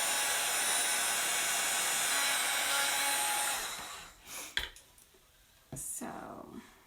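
A heat tool blows hot air steadily over a chalk transfer, a loud, even rush that cuts off at about three and a half seconds, followed by brief soft clicks and a short burst of airflow.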